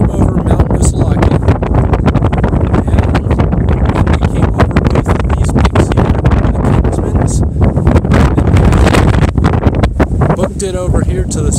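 Strong wind buffets the microphone on a mountain trail near Franconia Notch, a loud constant roaring rush with no letup, while a person talks over it.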